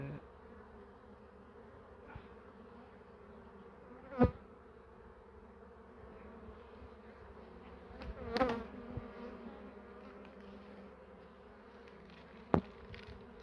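Low, constant droning of many bees buzzing close by, with a few louder passes of single insects flying near.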